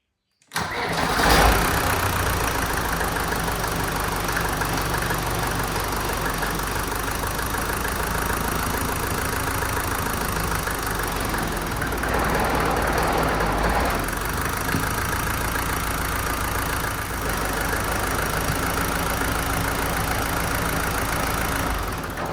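A Unimog 421 engine, just fitted with a new clutch, cranks and catches, then settles into a steady, loud idle that runs unbroken for around twenty seconds, with no voices.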